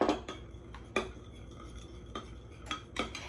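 A spoon clinks against a bowl while stirring together a meatloaf glaze of ketchup, Worcestershire sauce and Dijon mustard, a few soft scraping strokes punctuated by light taps, close and quiet.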